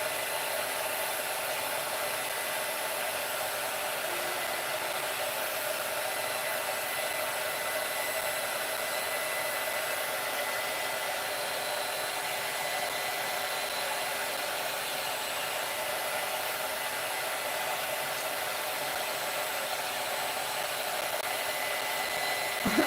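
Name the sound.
heat gun blowing hot air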